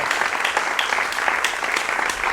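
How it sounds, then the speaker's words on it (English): An audience applauding steadily at a Beethoven cello sonata interpretation class, dense and continuous clapping heard close and fairly loud throughout. "They're saying something with their applause."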